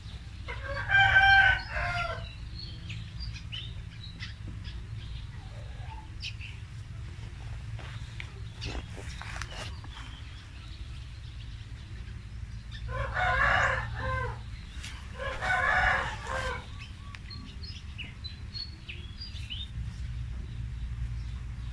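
Chickens cluck and scratch around outdoors while a rooster crows loudly several times, near and clear, over a constant low background hum from the yard.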